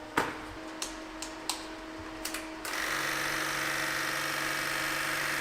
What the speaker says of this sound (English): That is a loud electric fuel pump.